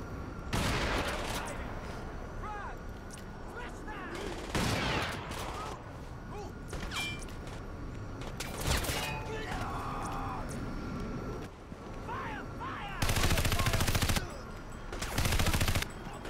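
Gunfire in the Crysis Warhead video game, with loud bursts of automatic fire and scattered shots repeating throughout, including a helicopter strafing run, as someone talks in between.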